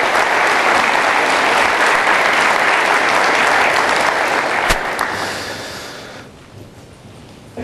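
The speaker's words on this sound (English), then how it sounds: "Let's give him a round of applause" A crowd at a high school signing day ceremony gives dense, loud applause that holds steady for several seconds and then fades away gradually.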